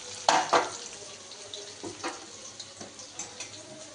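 Pieces of raw chhana frying in hot oil, with several sharp spatters and clinks of a utensil against the pan over a low sizzle, fairly close and without talk.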